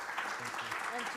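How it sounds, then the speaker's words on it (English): An audience at a music conference claps in a dense, steady round of applause, with voices mixed in under the clapping. "So can I have, first of all, a round of applause for Dana, Benson, and Karl?"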